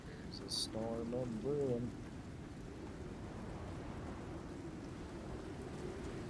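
A rainy thunderstorm in the survival video game Icarus gives off a steady broadband hiss of rain with low rumbling underneath, continuous and fairly even, while a voice speaks briefly near the start.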